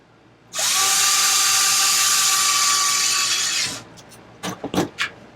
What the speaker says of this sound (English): We're going to lock up the 2 bolts. In the back.